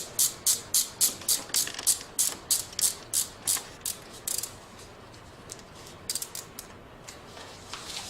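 A hand crank ratchet clicks in quick regular bursts as it is cranked to tighten, loud and close at first, then thinning into a few scattered clicks after a short lull.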